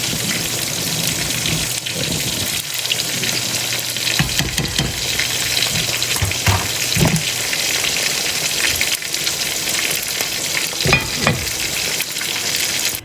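Two pork chops fry in a pot of hot oil, giving a dense, continuous sizzle with occasional crackles and pops, loud and close, with no voice over it.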